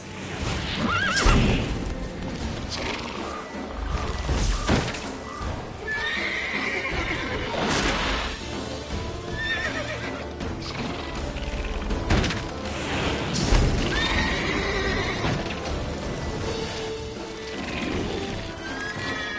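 Roach, the horse in the video game The Witcher 3, whinnies loudly and gallops with steady clip-clop hoofbeats. Dense game music and effects play underneath throughout.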